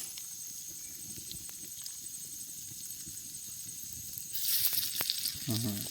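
About a kilo and a half of chicken frying on a hot clay roof tile at an outdoor village party in rainy-season Konkan, a faint steady hiss that swells into a loud crackling sizzle near the end.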